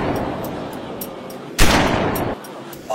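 A single sharp, loud gunshot-like blast from a video game kill effect, with a short decaying tail, standing alone over a low steady background.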